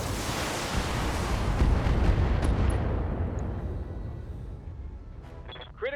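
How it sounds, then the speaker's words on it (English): Mech weapons unloading all at once in the BattleTech video game, a loud, dense booming barrage that rumbles on and slowly fades, with a few small electronic pops near the end. "Firing everything I've got."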